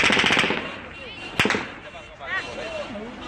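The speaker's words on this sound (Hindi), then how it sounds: "किस तरह से तड़ातड़ फायरिंग की आवाजें वहां से सुनाई दे रही हैं" Rapid bursts of gunfire ring out outside Kabul airport, a quick crackling volley up front and then a lone sharp crack, with shouting and voices in the distance throughout.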